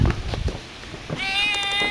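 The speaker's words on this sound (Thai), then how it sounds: "อ๋อ แมวแมวนะครับ" A cat at a temple site gives one drawn-out, clear meow near the mic at the end, after a few seconds of background shuffling and brief talk.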